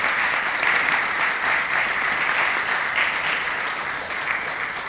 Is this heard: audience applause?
yes